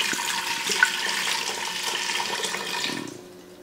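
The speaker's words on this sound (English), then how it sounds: "Into the pressure cooker we go with a little bit of that water." Water being poured into a pressure cooker for cooking German shanks, a continuous close splashing stream that runs steadily for about three seconds and then tapers off to quiet.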